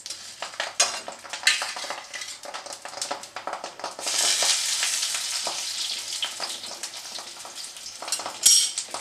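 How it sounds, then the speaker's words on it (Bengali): A banana leaf parcel of mourala fish with mustard goes gently into hot oil on low gas. Scattered clinks and pan taps come first, then a sustained bright sizzle rises and holds close up, with no talking. "তেলটা গরম হয়ে গেছে, এবার আমি কলা পাতাটাকে ছেড়ে দেবো আস্তে করে।"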